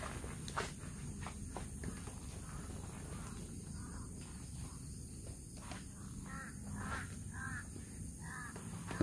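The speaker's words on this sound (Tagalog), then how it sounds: "Ang mga uwak ko." Crows caw in a series of faint, distant harsh calls over an outdoor background, mixed with soft footsteps on the ground.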